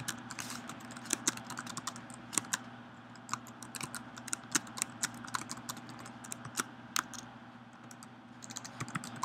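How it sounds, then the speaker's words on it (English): JavaScript being typed on a computer keyboard, with rapid, uneven clicking keystrokes over a faint steady hum, fairly quiet and close. "so I typed in the JavaScript"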